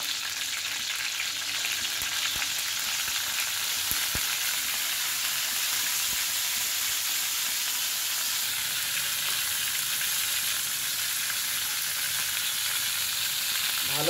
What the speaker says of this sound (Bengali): মাথাটা খুব ভালো করে ভেজে নিতে হবে, তাহলে খেতে বেশি টেস্টি লাগবে।